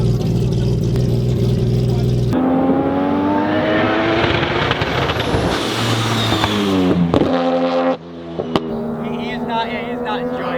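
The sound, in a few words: drag car engine on drag radial tyres, stumbling at low RPM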